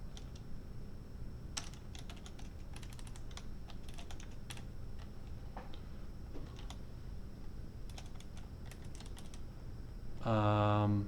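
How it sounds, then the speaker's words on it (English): Quiet, close keyboard typing on a computer during coding work, scattered bursts of light clicking keystrokes, ending in a brief louder tone. "if I start typing this out"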